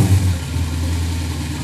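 A Dodge car engine after a fresh throttle tune, running at a steady, loud idle with a low rumble and a slight rev at the start, with no talking.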